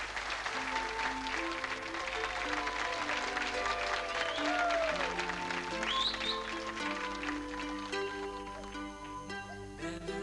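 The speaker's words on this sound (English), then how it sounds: "And a big round of applause, please, for Jeanette Riddell." Audience applause at a 1987 televised dancing show, a steady wash of clapping heard beneath prominent music with held tones and melodic lines throughout.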